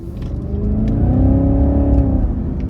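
A supercharged 6.2-liter V8 in a 2017 Cadillac CTS-V pulls hard out of a corner, its loud, close engine note rising steadily in pitch under throttle before easing slightly at the end, with no talk over it.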